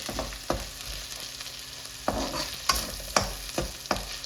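Ginger garlic paste sizzles and fries in a pan for methi chicken, with a steady hiss broken by repeated scraping stirs of a utensil against the pan, heard up close with no talking.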